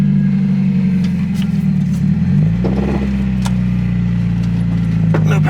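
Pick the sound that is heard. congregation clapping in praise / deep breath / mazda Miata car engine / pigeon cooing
mazda Miata car engine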